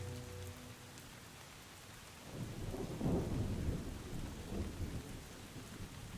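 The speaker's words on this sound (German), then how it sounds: "Es regnet aber jetzt doch wieder." Steady rain patters down in a video game as a low roll of thunder swells and rumbles for several seconds.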